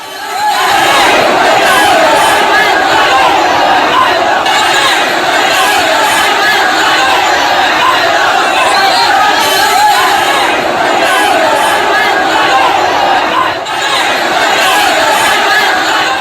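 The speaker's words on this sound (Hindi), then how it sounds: "भीड़ लगातार नारेबाजी कर रही थी" A protest crowd in Bareilly chants slogans nonstop, a loud, dense roar of many voices shouting together that holds for the whole stretch.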